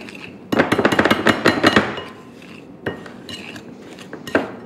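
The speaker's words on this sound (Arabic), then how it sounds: "مجرد هيك يدويا نبو نقلبوا الزبدة مع السكر" Butter and sugar being creamed by hand in a bowl with a spoon: a quick burst of rapid clinking and scraping strokes against the bowl, then a few isolated knocks after a pause.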